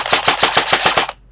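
An airsoft SIG MPX rifle fires full auto in a single fast burst of about eight evenly spaced, sharp cracks up close, then stops abruptly, with no voices.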